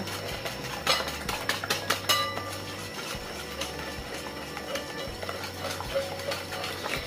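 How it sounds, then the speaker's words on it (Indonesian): Eggs and sugar being stirred together in a bowl for sesame keciput, with rapid, steady clinking and scraping of a utensil against the bowl, close and fairly quiet, with no voices. "lalu kita larutkan telur dan juga gulanya ya, biar larut ya"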